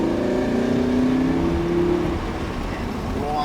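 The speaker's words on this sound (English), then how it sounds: "Roll on the gas here, accelerate up to the red." A car rolls on the throttle and accelerates on a track, its engine note climbing steadily and loudly. An instructor talks over the engine.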